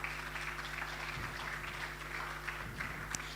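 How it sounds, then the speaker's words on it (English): An audience applauds to welcome a speaker at a Girls in ICT event, a steady wash of clapping held at an even level throughout with a low room hum beneath. "with a resounding round of applause,"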